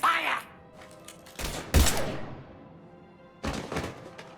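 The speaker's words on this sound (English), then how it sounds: "Now open fire!" Gunfire erupts in the Mass Effect 3 video game: two short bursts of thudding, cracking shots, each followed by a decaying tail, separated by a quieter gap.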